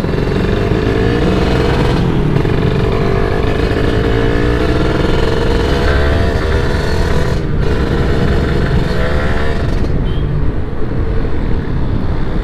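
Kawasaki Ninja SS/R motorcycle, its engine in less than healthy condition, revving continuously and loudly at close range during a night test, with a sustained buzzing drone and rising and falling pitch sweeps.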